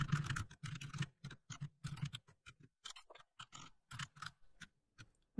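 Keys clatter in quick, irregular bursts as a short BASIC program is typed on an RC2014 Z80 computer keyboard, close and fairly soft, with brief pauses between words and no voices.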